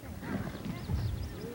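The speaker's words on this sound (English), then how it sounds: "The horse is a 3-year-old mare, Mona." Hooves of a three-year-old halter-broken mare clop on the ground on a Montana ranch, a close, uneven rhythm of thuds with a brief whinny-like cry.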